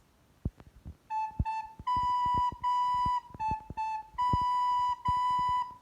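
Recorder plays simple repeated notes, alternating between two pitches in a short rhythmic pattern, some held longer, with light tapping between phrases.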